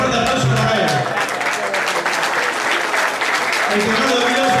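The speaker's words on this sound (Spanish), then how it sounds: "Un fuerte aplauso para él." A bar crowd claps for the bassist, Denis Bolucero, at a blues gig; loud, dense applause fills the room while someone talks over it throughout.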